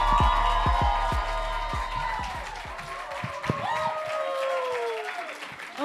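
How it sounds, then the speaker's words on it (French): A stand-up comedy audience breaks into a thunder of applause and cheering for a comedian's entrance, dense clapping up front that swells, then thins out as a voice starts talking over it. "un tonnerre d'applaudissements pour Michel Furtado"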